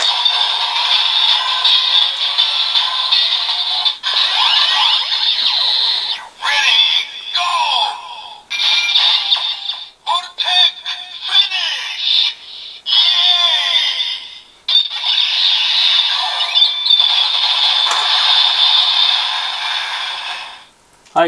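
A Kamen Rider Build DX Turtle Watch Full Bottle toy plays its electronic finisher sequence through a small, tinny speaker, with bursts of synthesized effects and voice-like sounds broken by brief gaps, ending in a sudden cut.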